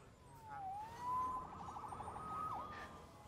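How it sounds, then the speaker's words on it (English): A police siren wails faintly in the distance with a rising and falling pitch, heard on the streets of New York in the Marvel's Spider-Man video game. "Saved by the siren."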